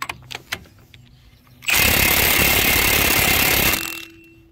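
An impact wrench on a 2000–2006 Chevy Suburban or 1500 4x4 during a wheel bearing replacement fires one loud, steady rattling burst of about two seconds. Lighter clanks come before it, and a faint hum lingers afterward.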